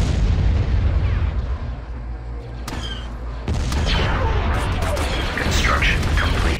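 Gunfire and artillery blasts from a strategy video game sound as dense, continuous battle noise, with sharp shots and booms layered over a steady rumble and a louder burst midway. Game voices speak over the combat.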